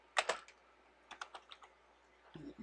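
A computer keyboard typed on while entering a command in a Solaris terminal, a few quiet, quick close keystrokes in two short clusters with a faint hum beneath.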